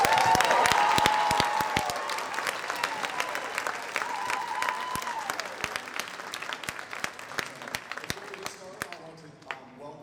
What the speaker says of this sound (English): Let's encourage them with a huge round of applause.